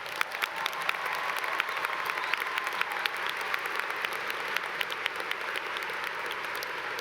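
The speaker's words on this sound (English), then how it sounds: "Let's give them all a round of applause." A large commencement audience breaks into sustained applause, dense overlapping claps filling the space evenly and loudly throughout with no talk over them.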